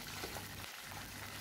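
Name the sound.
shrimp frying in used cooking oil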